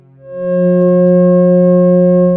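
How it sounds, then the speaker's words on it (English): A loud, steady electronic tone swells in within the first half second and holds, F sharp and C sharp blending into an open, harmonious perfect fifth. "They are F sharp and its perfect harmonic fifth of C sharp."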